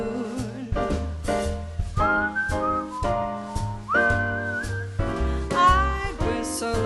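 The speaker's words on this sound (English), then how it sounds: "I'd whistle a little tune for you." A person whistling a little tune in a jazz setting, clear melodic phrases over a backing of bass and chords, near and prominent, with no voices.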